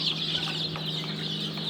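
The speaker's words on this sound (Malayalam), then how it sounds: "ഇതെല്ലാം ലൈറ്റിൻ്റെ പ്രായം കഴിഞ്ഞ കാടക്കുഞ്ഞുങ്ങളും കോഴിക്കുഞ്ഞുങ്ങളുമാണ്" Quail chicks and chicken chicks crowd a poultry farm, giving off a continuous high-pitched peeping with a few sharper chirps, steady and close throughout.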